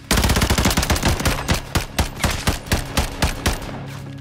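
Rapid automatic gunfire from a Call of Duty crew battle, loud and close, with a dense sustained burst followed by a run of evenly spaced single shots and no talk.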